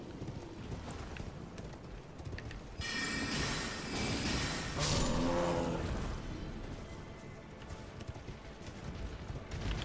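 Horse hooves galloping in the video game Elden Ring, a steady clip-clop rhythm that swells louder mid-clip with a burst of wind-like rushing, then settles back to continuous hoofbeats.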